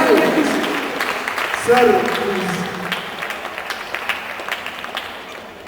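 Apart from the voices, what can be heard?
applause welcoming a guest on stage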